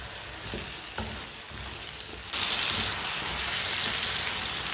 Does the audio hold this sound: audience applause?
no